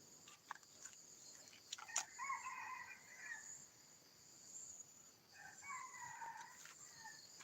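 Chickens give faint, distant clucks and short calls in two bursts outdoors at dawn, over a steady chirping of insects with no talking.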